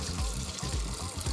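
Water draining from freshly rinsed rice for Thai coconut rice, a short burst of pouring and trickling liquid with gurgling pulses, close and steady.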